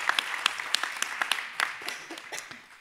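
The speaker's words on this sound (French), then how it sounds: "je crois qu'on peut les applaudir." A conference audience at a marketing automation event applauds after a presentation, a moderately faint, steady patter of many hands in a large room, thinning toward the end.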